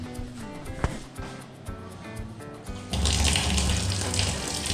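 Household sounds, then from about the three-second mark a steady broadband rush of tap water running into a sink, loud and close.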